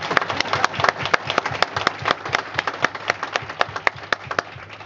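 A small audience at a veterans museum's tenth-anniversary event claps for the museum director, a sparse round of distinct individual handclaps that thins out toward the end.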